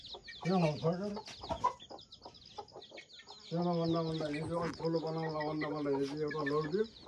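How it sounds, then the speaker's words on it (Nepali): A rooster clucks in two runs, a short burst then a longer sustained stretch of throaty calls, close by, with a voice speaking between them. "भाले यही हो"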